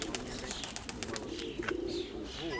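Pigeons coo repeatedly at an outdoor pigeon and bird fair, soft throaty calls rising and falling close by over a steady murmur of crowd noise, with scattered chirps from other birds.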